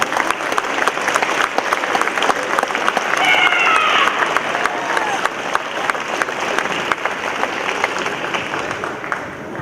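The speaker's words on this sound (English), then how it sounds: "one final applause for our senior hostess and wrestler" Audience at a high school wrestling senior night applauding honorees, a dense sustained burst of clapping and crowd noise in a gym, loud and continuous, tapering slightly toward the end.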